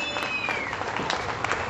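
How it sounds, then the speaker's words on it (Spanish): Brief burst of audience applause at a Spanish-language event, moderately loud and continuous, with a faint whistle-like tone running briefly in the background. "A ver, un aplauso"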